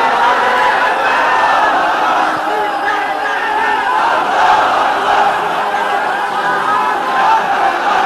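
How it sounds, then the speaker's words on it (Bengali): A large gathered crowd at an Islamic religious lecture shouting takbir together, a dense continuous roar of many voices, loud and sustained throughout. "তাকবীর দেন তো একজন আওয়াজ করে"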